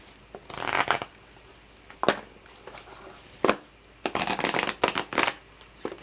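A deck of tarot cards is shuffled by hand, several quick riffling bursts separated by short pauses, close and crisp against a quiet room.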